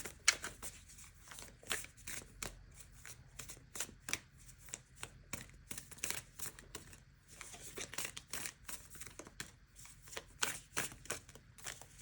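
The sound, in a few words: oracle cards being shuffled and pulled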